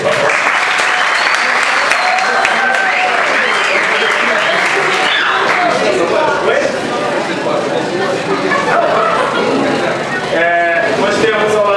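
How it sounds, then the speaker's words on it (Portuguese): Student audience at a school impeachment debate applauds loudly and steadily, with cheers, whoops and bleat-like shouts rising over the clapping throughout. "palmas para ele, por favor."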